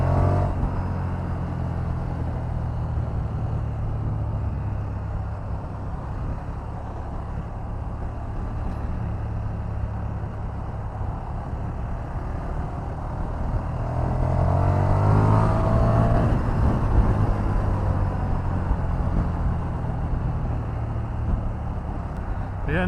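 A powerful naked sport motorcycle's engine (Street Triple RS, 1050 Speed RS, 1290 Superduke or V4 Tuono Factory class) drones steadily while riding, with wind rumble and a rising surge of acceleration midway, loud and close.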